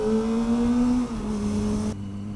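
Car engine pulling hard on a busy road, a steady rising drone that drops and shifts as the gear changes near the end, close and fairly loud with no talk.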